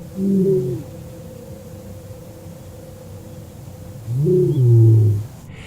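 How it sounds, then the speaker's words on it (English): A lion roaring outside a tent at a campsite at dawn: two deep, moaning roars several seconds apart, the second longer and louder, over a constant hiss of background noise. "the chilling sound of a lion's roar can be heard coming from outside the tent"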